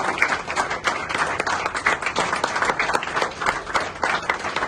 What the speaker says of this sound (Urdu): تالیاں بجتی رہنی چاہیے